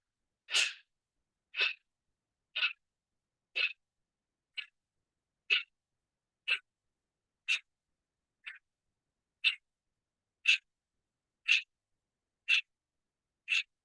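Forceful exhalations in a yoga breathing exercise, fourteen sharp, breathy puffs through the nose or mouth at a steady one-per-second rhythm, close and distinct with silence between each, no talking.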